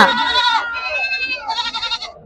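Male goats bleating loudly up close at a livestock market, a few long wavering cries one after another, with no other sounds around them.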